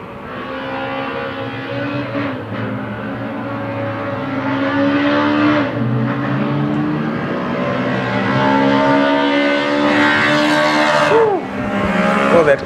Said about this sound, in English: That car revs hard in the right-hand lane there.